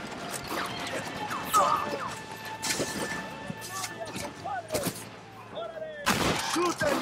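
Bolt-action rifle shots in the video game Red Dead Redemption, a few sharp cracks and mechanical bolt clacks spread across the stretch, mixed with game sounds and a voice.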